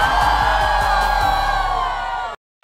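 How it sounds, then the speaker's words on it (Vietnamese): A live audience at a dance battle show roars with cheers, whoops and applause for five judges, a loud sustained crowd din that cuts off abruptly near the end. "Xin một tràng pháo tay cho năm vị giám khảo tuyệt vời của chúng ta, thưa quý vị."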